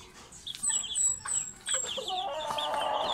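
A White Kelso rooster and chickens in a backyard farm give several nearby clucks and short calls in quick bursts over quiet background, with no talking.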